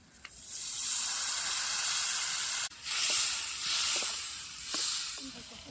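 Water poured into a hot pan of chicken masala with onion, chilli powder and turmeric, cooked outdoors by a river, hisses loudly in a continuous sizzling rush that dips briefly midway before surging again.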